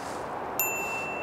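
A single clear bell ding rings out over a low background hush, then leaves a bright, sustained tone that lingers to the end, close and fairly quiet, with no talking.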